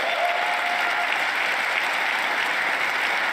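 Loud, sustained applause and cheering from the chamber audience at a State of the Union address, a continuous dense roar of clapping with no break.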